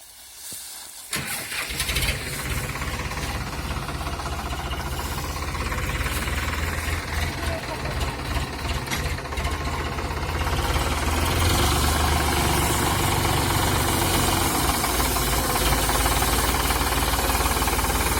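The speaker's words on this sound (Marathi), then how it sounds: "त्या आता आपल्या चांगल्या ट्रॅक्टरनं तुडून घ्यायचं आहे" A tractor engine drones steadily and close at hand, getting slightly louder as it drives back and forth over mung bean pods spread out in a home courtyard to thresh them. No voices are heard.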